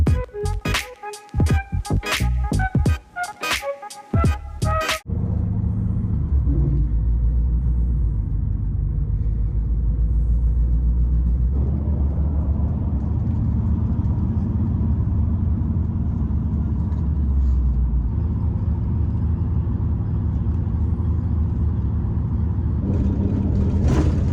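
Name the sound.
bus driving on the road, interior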